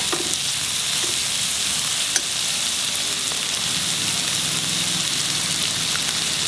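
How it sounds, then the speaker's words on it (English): Dry prawn chutney frying in a pan on a medium-low flame, a steady close sizzle with faint scraping as it is stirred, continuous throughout with no talk. "Cook this on low flame, medium low. Keep on stirring."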